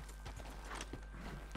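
Horse hooves clip-clopping in Red Dead Redemption during an online jousting match, where the mount is a scrawny nag; steady repeated hoof thuds at close range, with a faint background hum and no talking.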